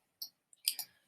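Computer mouse clicks sound close and sharp: a single click, then a pause and a quick cluster of clicks, alone in a quiet room.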